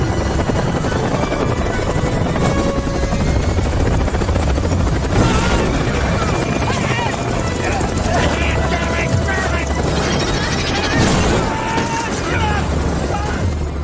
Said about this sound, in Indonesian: Namun ketika giliran Peter dan Witch, helikopter pun mulai oleng karena angin yang semakin kencang.